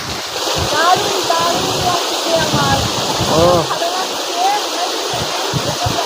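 A mountain waterfall in Darjeeling produces a constant, loud rushing roar of falling water, with people talking underneath it.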